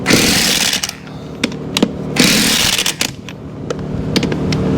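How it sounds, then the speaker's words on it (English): An impact gun removes the wheel studs on a 1949 Willys, with two loud rattling bursts separated by sharp metallic clicks and clanks. "Gun's violent, so I don't want to snap these studs off"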